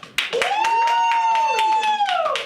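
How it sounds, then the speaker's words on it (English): An audience at a studio improv show claps for a performer named Jack, quick bursts of claps under a long, drawn-out vocal whoop that rises and holds before fading. "Let's clap it up for Jack"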